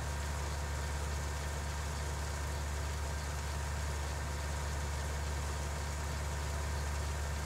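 A tractor engine in Farming Simulator 19 runs as a constant low, droning hum at a steady pitch, filling the whole stretch without change and with no talking.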